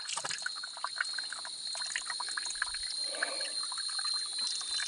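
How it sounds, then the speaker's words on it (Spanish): A small trickle of water falls steadily, a thin continuous patter and dribble, close and faint, over a constant high hum. "El chorrito que cae, señores"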